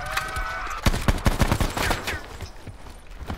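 Rapid video game gunfire, a quick burst of sharp shots crackling in a tight rhythm, loud and close, then tapering into scattered softer pops.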